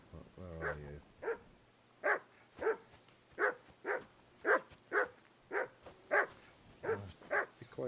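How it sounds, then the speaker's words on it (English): A dog in Kingdom Come: Deliverance 2 barks about a dozen times in a steady, evenly spaced rhythm, fairly close and moderately loud, with a brief voice at the start. "Henry, call that dog to heel."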